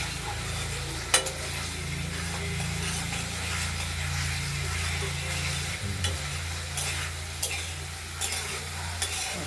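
Paneer and water go into a sizzling, oil-separated spice masala for a potato-tomato paneer curry; a steady close sizzle runs under rhythmic scraping stirs and a few clacks of the spoon, with no voices.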